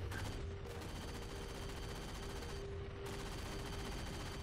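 Dense, continuous gunfire in the Halo 4 video game, a loud unbroken fusillade of rapid shots that briefly drops out before resuming at full intensity.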